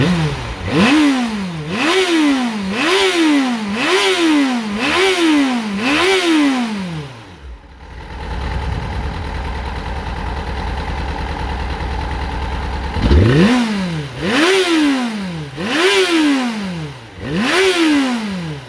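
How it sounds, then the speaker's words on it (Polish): A 2008 Yamaha FZ6 motorcycle engine, warm, revs repeatedly in sharp rising bursts, drops to a rough steady idle for several seconds, then revs again in rhythmic pulses, close and loud. "Jeszcze raz go cykniemy na ciepłym"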